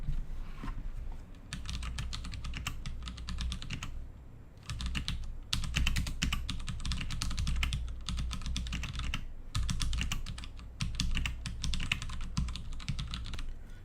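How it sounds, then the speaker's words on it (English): Brown mechanical switches on a Das Keyboard 4 Professional clatter in fast, steady bursts of typing with short pauses, close and fairly loud, with no voices. "now let's hear the brown switches"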